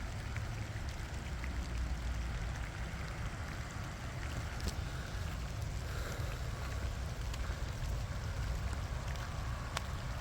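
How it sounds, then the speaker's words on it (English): Steady rain falls outdoors during a lake-effect storm, a faint, constant wash of drops with occasional sharper ticks and a low rumble beneath, with no voices. "Rain is picking up."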